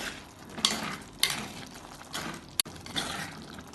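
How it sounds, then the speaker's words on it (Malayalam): A spoon stirs thick malai chicken gravy with curd in a pan, giving a soft continuous scraping and sizzling with a few sharp clinks against the pan. No one speaks. "ഇതിനൊന്ന് ഇളക്കി കൊടുക്കാം."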